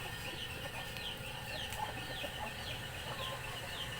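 Chickens cluck softly at a moderate distance over a constant outdoor hum, with occasional higher calls mixed in.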